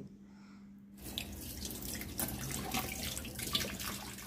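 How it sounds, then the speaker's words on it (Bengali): Black rice gets rinsed under a running kitchen tap: after a second of near-quiet the water comes on and pours steadily into the grains, close and continuous, with light splashing and no talking. "এখন চাউলগুলো ধুয়ে নিচ্ছি"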